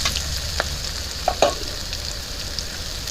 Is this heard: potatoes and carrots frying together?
yes